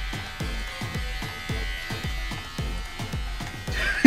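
A Kemei KM-809A electric hair clipper buzzes close up while cutting hair at home, its hum pulsing in a steady rhythm of about two strokes per second, quiet and alone.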